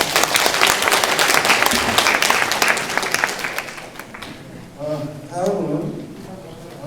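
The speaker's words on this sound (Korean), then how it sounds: "다시 한번 큰 박수 부탁드리겠습니다" Loud, sustained audience applause at a Korean delegates' orientation event, dense clapping filling the first four seconds before fading as a voice begins speaking over the thinning claps.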